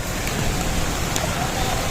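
Dense, steady hiss of rain fills the clip evenly, loud and close, with no breaks or distinct voices.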